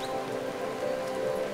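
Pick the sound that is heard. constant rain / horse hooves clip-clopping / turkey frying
constant rain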